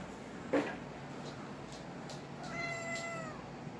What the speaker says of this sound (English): So we got a cat about a year ago, Mookie.